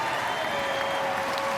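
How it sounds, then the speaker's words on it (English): A boxing crowd in Sheffield applauds both fighters after a ten-round bout, a steady, dense roar of clapping filling the arena with no voices on top. "if we can get a nice round of applause out here for both of these fighters"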